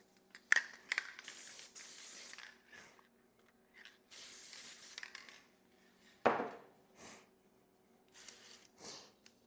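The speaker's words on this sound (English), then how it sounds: "Actually, let's go ahead and spray this down." Short, hissing spray bursts coat a laser-cut Halloween sign from a CO2 laser engraver. They come in several separate puffs with quiet gaps, mixed with light clatter of pieces being handled nearby.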